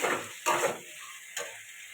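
Tomatoes and salt sautéing in a pan for a Bengali muruli fish curry: a steady close sizzle with a few louder stirring bursts, and no talking.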